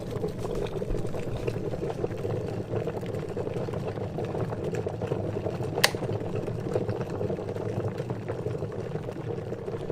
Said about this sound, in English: So there it is coming to boil, that's that plate.